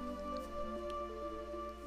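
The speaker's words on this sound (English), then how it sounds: "Yeah, it's always raining here." Steady rainfall in Burmecia, a perpetually rainy city in the video game Final Fantasy IX, heard as a constant soft wash with faint droplet ticks over a low game ambience, without talk.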